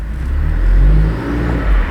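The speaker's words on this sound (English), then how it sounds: "All right, trash control off. I'll do a little launch here." A 2008 Acura RDX turbo with an aftermarket catback exhaust launches from a standstill, its engine note swelling into a loud, steady surge of low rumble that eases briefly, then climbs again.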